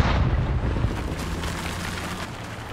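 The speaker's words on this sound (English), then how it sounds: "Explosion." A loud explosion in the military shooter Squad booms up close, then fades into a long rumbling decay, with no talk over it.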